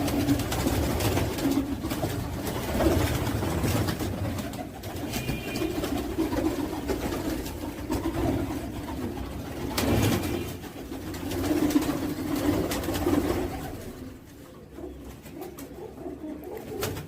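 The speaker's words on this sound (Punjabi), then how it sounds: "ਦੇਖੋ ਵੀਰੇ ਸਾਰੀਆਂ ਕਬੂਤਰੀਆਂ ਹੀ ਆ ਇਹ" Female pigeons coo steadily in a low, throaty drone, several birds overlapping continuously, with a low rumble of background noise and a quieter stretch near the end.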